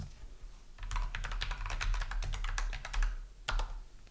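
Rapid keyboard typing, a fast run of clicking keystrokes with a brief pause before a final burst.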